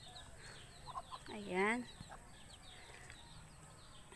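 Newly hatched chicken chicks and a hen cluck briefly near the microphone, a short burst of soft calls over low background hum, with a person speaking a word nearby.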